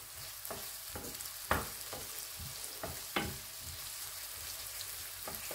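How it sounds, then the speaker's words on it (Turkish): Onions sizzle in a pan for menemen, a steady quiet frying hiss broken by several sharp clicks and scrapes of stirring, close up and with no talking. "Soğanlarım kavrulmaya başladı."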